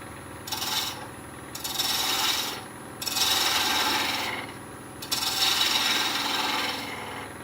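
A wood lathe spinning at about 1200 RPM while a snowman is turned gives off a harsh, raspy scraping in four repeated passes, each separated by a short quieter pause, close and clear.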